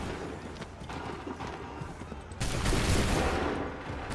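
Musket volley fired by a line of soldiers in the Assassin's Creed III video game, a dense burst of overlapping shots that swells loud after a steadier stretch of battle noise, with no speech.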